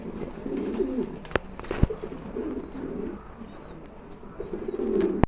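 A pair of Maltese pigeons cooing in soft, repeated low coos, close by, with a few sharp clicks in between and no talking.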